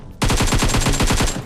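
Rapid automatic gunfire in PUBG Mobile: a close, loud burst of about a dozen evenly spaced shots fired in quick succession, lasting just over a second.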